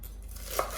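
A knife chops spring onion on a chopping board, soft scraping with one sharper knock near the end, close and fairly quiet with no talking.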